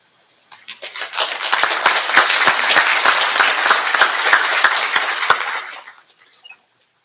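An audience at a National Honor Society induction ceremony claps as a guest speaker is welcomed. The applause is steady, dense and loud for about five seconds, then tapers off quickly.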